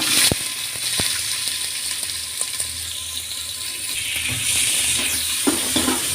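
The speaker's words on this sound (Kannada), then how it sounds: "ಈಗ ಈರುಳ್ಳಿನ ಫ್ರೈ ಮಾಡ್ತಾ ಇದ್ದೀವಿ." Crushed garlic and onion fry in cooking oil with mustard seeds, giving a steady close sizzle punctuated by sharp clicks and scrapes of a spoon against the pan.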